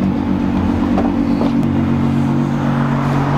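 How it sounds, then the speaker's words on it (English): A Volkswagen R32 with a VR6 engine pulls up, its steady mid-pitched engine note loud and close with a faint rising rev throughout. "I hear the sound of another VR6"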